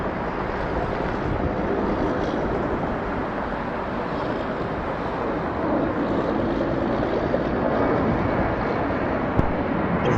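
Airbus A321-211 jet at Atlanta Hartsfield-Jackson International Airport, a steady broad engine roar with wind-like rushing that holds loud and even throughout, with no voices.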